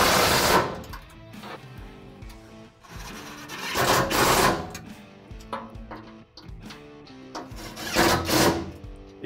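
Impact driver with a 3/8 socket tightening bolts on a Can-Am Commander cargo rack during UTV installation, several loud bursts of rattling hammering separated by quieter gaps of clinking and handling noise.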